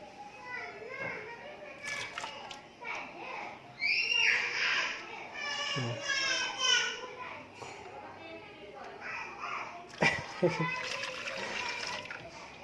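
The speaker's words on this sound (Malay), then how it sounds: "Budak tengah gaduh" Children at home squabble and play noisily, with high-pitched shouting and chattering voices rising and falling throughout. Bursts of splashing water come through close by.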